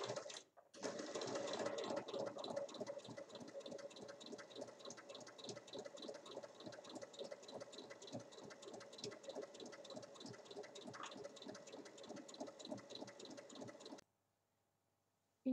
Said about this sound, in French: je vais venir faire une piqûre tout le tour à 1 cm et une piqûre juste après